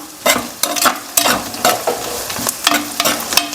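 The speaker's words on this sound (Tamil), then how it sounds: "நல்லா இடித்து வச்சுருந்த இஞ்சி பூண்டும் போட்டாச்சு இதை லைட்டாக நம்ம வதக்கிக்கலாம்" Crushed ginger and garlic sauté in a hot pan for Pallipalayam chicken fry, with loud, close sizzling broken by repeated scraping stirs of a spoon in an irregular rhythm.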